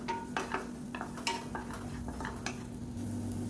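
Crushed garlic cloves frying in oil in a pan, a soft, low sizzle punctuated by repeated light spoon scrapes and taps on the pan, close and quiet with no talking.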